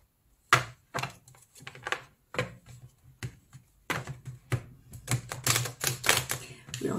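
A thick deck of tarot cards is shuffled by hand in repeated bursts of riffling, slapping card noise, close and fairly quiet, the bursts growing busier toward the end.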